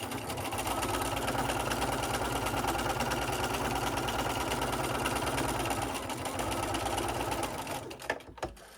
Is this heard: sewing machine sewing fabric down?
yes